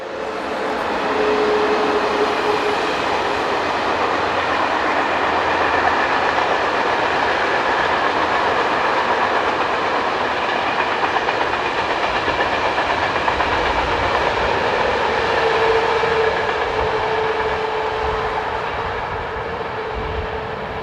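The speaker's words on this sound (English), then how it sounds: "Heading east with loaded ballast hoppers is 26199, with number 201 bringing up the rear." An eastbound freight train hauling loaded ballast hoppers on a European main line rolls past with a steady loud rumble and faint rhythmic wheel clatter for about twenty seconds, with no voices.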